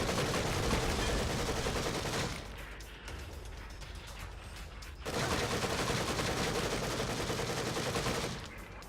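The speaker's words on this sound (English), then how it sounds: "Oh no, gunfire!" Dense bursts of automatic gunfire in the video game The Evil Within DLC rattle loudly, dropping briefly to a quieter stretch before another sustained barrage resumes, ending with a short lull.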